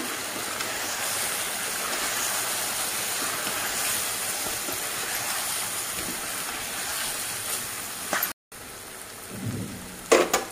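Chicken curry pieces with cumin, coriander and chili powder frying in a pan, a dense, loud, steady sizzle close up that cuts out briefly near the end, followed by a few clattering stirs.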